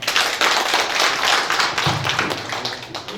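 An audience at a university student talk concert applauds, dense continuous clapping from many hands, loud and close throughout.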